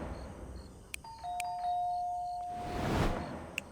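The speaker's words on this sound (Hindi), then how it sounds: "डोरबेल बजाई थी।" A two-tone ding-dong doorbell rings once, its chime tones sustaining briefly in a quiet indoor room, with faint clicks and a soft rustling swell afterward.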